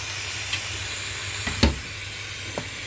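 Steam hisses steadily from an aubergine and minced meat dish cooking on the stove, a constant breathy hiss broken by a few brief clicks and a louder clack near the middle, with no voices.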